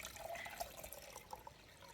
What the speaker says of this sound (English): then I come through with my water and fill it afterwards